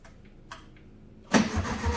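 A 1971 VW Beetle engine, fitted with a new fuel pump and filter, cranks and catches: a couple of faint clicks, then a loud, sudden burst of rough mid-pitched churning that carries on steadily to the end, with no voices.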